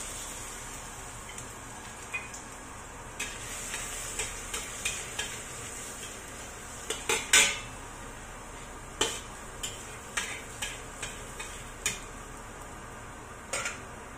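Garlic stirred into a hot pan with chili and black beans for a bean curd dish: a soft, steady sizzle under a run of light utensil clinks and scrapes against the pan.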